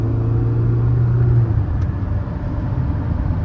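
A large diesel SUV cruises with a low steady rumble from inside the cabin, the engine note easing slightly partway through, smooth and unstrained.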